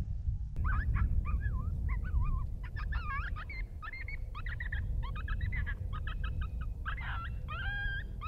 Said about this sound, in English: there's coyotes howling every direction from me